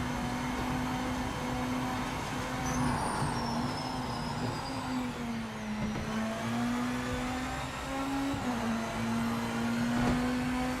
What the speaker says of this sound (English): You can just hear how the car doesn't want to accelerate.